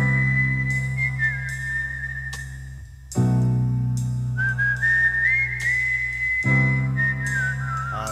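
Melodic whistling from a song, a clear pure-toned tune with gliding held notes over a sustained piano and bass backing, loud and upfront.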